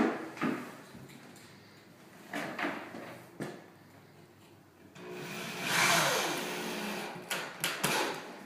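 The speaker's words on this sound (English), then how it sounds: "Get your drill and a screw. What you want to do is you just want to center it and push it into the drywall and recess it." Power drill driving a screw into drywall, with a short whirring run near the end amid scattered knocks and handling thuds in a quiet room.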